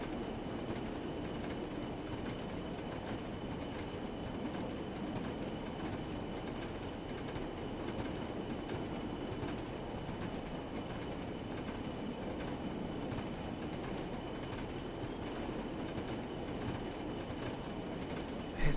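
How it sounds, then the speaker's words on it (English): A train in Train Sim World 3 on the Northern Trans Pennine route rolls along the track with a steady, moderately quiet rumble and faint rhythmic clatter throughout, with no talk. "There's definitely something to the clickety-clack, clickety-clack."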